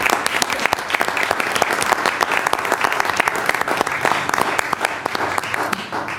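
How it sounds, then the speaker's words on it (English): Board meeting audience at a school district session applauds steadily and loudly, dense clapping sustained throughout with a few voices mixed in. "if you could give them a round of applause, my Smurfs in the background here"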